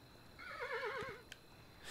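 A horse in the Kingdom: Two Crowns video game gives one clear, wavering whinny lasting about a second, loud and close, followed by a faint hoof tap.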